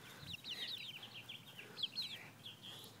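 Backyard chickens cluck and chirp faintly in short, uneven bursts of a few calls each over quiet background noise, with no one talking.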